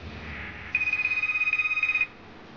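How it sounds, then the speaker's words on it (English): An in-game phone in a psychological indie game rings with one steady electronic trill that pulses rapidly for about a second and a half, loud and close, with no talk over it. "Is that my phone?"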